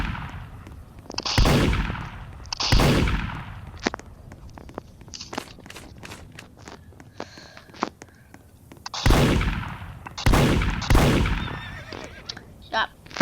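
Sharp bursts of video game gunfire crack out in clusters, with a horse whinny and scattered clicks and thuds between the shots.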